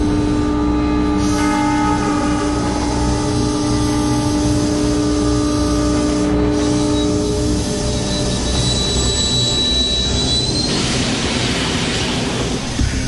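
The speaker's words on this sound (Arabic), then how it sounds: "إن ثقة بوجي في محلها، أوقف نظام الإنذار الإضافي القطار أوتوماتيكيا على سكة مكتظة" A train rumbles loudly along a busy rail line in Mumbai, its horn sounding a long steady tone over the constant roar of wheels and cars that continues throughout.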